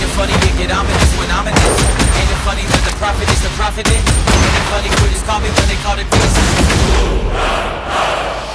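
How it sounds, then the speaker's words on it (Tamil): Rapid gunfire crackles in dense bursts during a gang shootout in Lyari, with crowd noise and booming thuds, loud and chaotic throughout. "இரண்டு கேங் மத்தியில் துப்பாக்கி சூடு, லியாரியில் குண்டு மழை பொழிந்து வருகின்றன"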